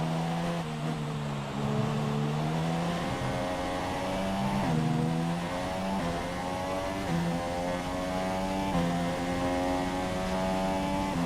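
An F1 race car engine screams at full speed in F1 2017 on the Mexico circuit, a loud high-pitched whine rising and falling through gear shifts, sustained and close throughout with no talking.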